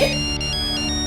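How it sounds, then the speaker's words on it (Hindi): A mobile ringtone plays loudly and steadily for about a second, a bright electronic melody with sustained tones and no voices. "तो ब्रिजेश का फोन है।"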